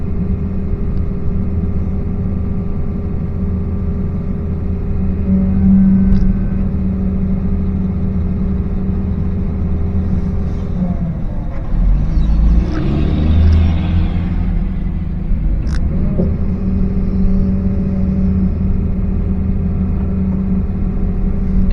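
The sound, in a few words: dump trucks arriving, engines rumbling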